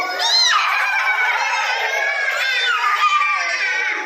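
A group of young children at a preschool imitate a horse together, a loud, overlapping jumble of high whinnying cries and shouts sustained for several seconds.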